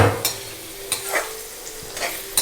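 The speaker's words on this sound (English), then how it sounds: "I will just put chopped onion in the pan and fry it properly" Chopped onion frying in warm oil in a pan for Jodhpur khasta onion kachori, a steady soft sizzle broken by a few sharp utensil scrapes and stirs, close and moderately loud, with no talking.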